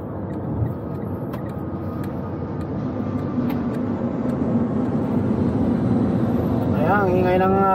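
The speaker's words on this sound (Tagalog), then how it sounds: "Ang ingay ng aeroplano, oh." A loud, broad roar of an airplane passing overhead in Dubai builds steadily and stays strong, with someone talking briefly near the end.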